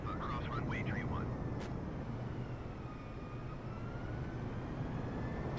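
An Airbus A320 taxiing to the gate in a flight simulator, a steady low engine rumble and whine throughout, with faint chirping tones early on.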